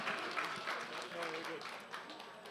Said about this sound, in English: everybody give it up for Eric. Clap him off stage